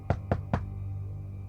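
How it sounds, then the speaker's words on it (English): Three sharp knocks on a front door in quick succession, fairly close, followed by a steady low hum of a quiet house interior. "I heard someone knocking on my front door"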